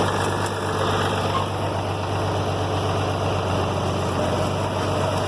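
An IH Farmall 706 tractor running steadily while pulling an IH 455 planter to sow sweet corn, a continuous loud engine drone with a constant hum and no change in pace, close by and without speech.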